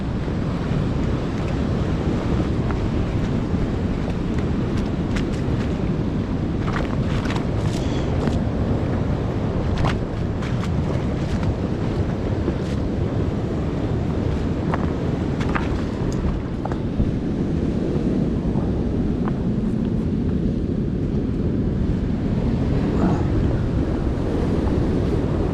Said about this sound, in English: waiting for the second set of waves to clear